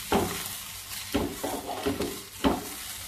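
Grated coconut and onion masala roasting in a pan, with a spatula stirring in repeated scraping strokes about once a second over a soft dry crackle, close and alone without talk.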